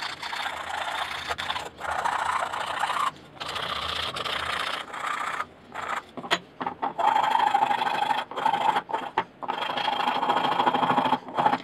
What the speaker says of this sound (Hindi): इसकी सफाई के लिए हम फॉइल की मदद लेंगे और इसको इस तरह से घिसेंगे